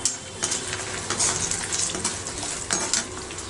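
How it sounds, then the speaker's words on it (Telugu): Garlic cloves fry in a hot pan with a steady broadband sizzle, while a utensil scrapes and clinks against the metal several times, close and fairly loud. "మంచి అరోమా వచ్చేదాకా ఫ్రై చేసుకుందామండి"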